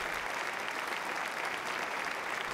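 About 600 guests clap in a stylish concert theatre at a bank event, producing dense, even, continuous applause throughout, moderately loud with no pauses.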